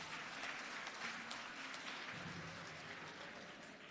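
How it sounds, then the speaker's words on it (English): Audience applause for a troupe of young traditional dancers at a memorial gathering: steady, fairly distant clapping from a crowd, evenly sustained and fading slightly toward the end. "can we please give our youthful traditional dancers a very big round of applause?"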